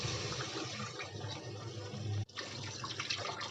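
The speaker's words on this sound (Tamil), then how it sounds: "நான் இப்போ வந்து தண்ணியை ஆட் பண்ணிக்கிறேன்." About two tumblers of water are poured into a cooking pot over sautéed beetroot for a beetroot biryani. A close, continuous splashing pour runs throughout with one brief break partway through.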